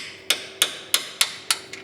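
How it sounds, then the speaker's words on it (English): A hammer strikes a punch to knock out a factory nutsert on an INEOS Grenadier rear control arm, six crisp metallic taps in a quick even rhythm, close and clear with no talk. "we're going to pop out the factory nutsert that's in there. So I'm going to use a punch and a hammer."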